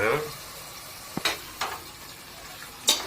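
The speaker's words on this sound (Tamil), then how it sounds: "போடு. தனி மிளகாத்தூள்." Chili powder goes into biryani masala frying in a pan, giving a soft, steady sizzle broken by a few brief stirring scrapes, fairly quiet and close.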